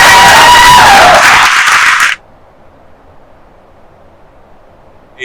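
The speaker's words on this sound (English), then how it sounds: "I'm going to ask you to stop the applause and the cheers" School board meeting audience applauding and cheering at West Park High School, a loud dense burst of clapping and voices that cuts off abruptly after two seconds, leaving near silence.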